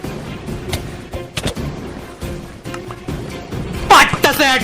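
Sharp gunshots from a survival video game, a headshot among them, popping in brief scattered bursts and ending in a louder cluster, with excited talk over the action.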